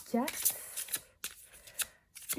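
Tarot cards being shuffled by hand before a card is drawn, a series of quick papery riffles and slaps in short bursts, close and moderately loud.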